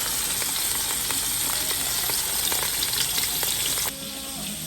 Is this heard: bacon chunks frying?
yes